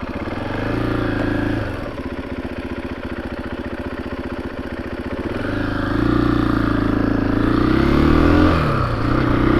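A 2021 KTM 500 EXC-F Six Days dirt bike engine catches and settles into a loud, steady idle up close, its throb dipping briefly before rising to a stronger, fuller rumble.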